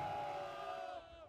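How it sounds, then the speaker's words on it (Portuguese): Excited football supporters at an amateur suburban-league match in a neighbourhood stadium, a dense sustained crowd roar with cheering voices, loud and continuous, easing slightly toward the end. "Torcida empolgada no bairro Xaxim para acompanhar uma verdadeira decisão"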